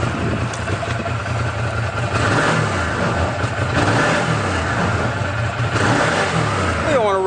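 A brand-new 2014 Arctic Cat Wildcat 4X side-by-side revs with no load. The 90-plus horsepower engine has a hotter cam and higher-compression pistons, and it gives several loud rises and falls in pitch over a running idle.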